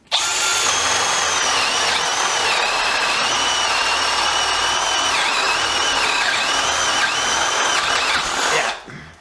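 A Milwaukee M12CD 12V cordless drill drives a screw into wood in one sustained, loud, close whine, its pitch dipping briefly a few times under load before it stops abruptly near the end.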